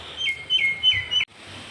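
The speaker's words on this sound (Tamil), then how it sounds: "குருவியெல்லாம் கத்துதா?" Sparrows chirping near a coconut tree on a farm, several quick bright tweets in short bursts, fairly close and clear over a quiet outdoor background, ending with a faint hiss.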